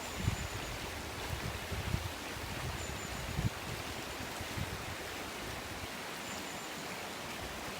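The River Bollin in Cheshire's Bollin Valley flows with a steady, broad rushing hiss of moving water, continuous and fairly near, with a few faint knocks and bumps in the background.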